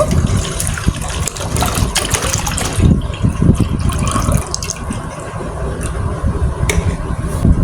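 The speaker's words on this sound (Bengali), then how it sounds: "দেখো প্রথমে আমি হাফ লিটার দুধ নেব।" Half a litre of milk for semai pitha pours steadily into a pot, giving a continuous close liquid splashing and trickling that is fairly loud throughout, with no speech.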